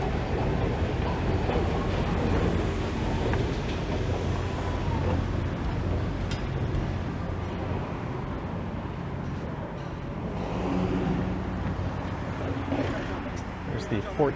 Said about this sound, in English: the trains running southbound through here run at that pathetically slow clip.